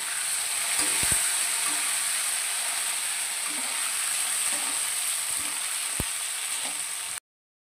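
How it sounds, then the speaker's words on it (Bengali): Tomatoes fry in hot oil spiced with a whole bay leaf for a date and mango-leather chutney, giving a steady, close, bright sizzling hiss with a few sharp spoon scrapes and knocks against the pan. "মশলার দারুণ গন্ধ উঠলে এবার টমেটো দিয়ে ভালো করে নেড়ে নিলাম"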